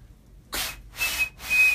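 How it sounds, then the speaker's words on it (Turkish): A handmade zurna reed blown to make a whistle, sounding as three short, breathy high-pitched bursts with brief gaps between them, close and fairly loud with no talking. "Al sana ıslık."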